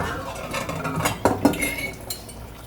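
Hot glass mayonnaise jars clink together while being filled with home-canned tomato sauce, a few light glassy knocks and clatter up close amid kitchen background noise.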